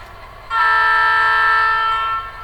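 A model locomotive fitted with a SoundTraxx Blunami sound decoder sounds a steady, loud horn that starts abruptly and holds for nearly two seconds before fading slightly.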